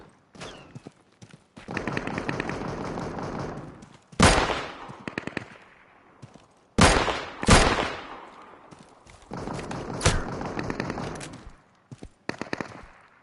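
Turret fire in the video game Deadside: loud, rapid machine-gun bursts in repeated volleys of one to two seconds separated by short pauses, with a few sharp single shots between, close and dominant with little talk.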